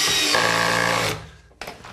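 A power screwdriver drives a screw into the wooden floor of a chicken coop, giving a loud steady whir for about a second that then winds down and stops, followed by a short clatter.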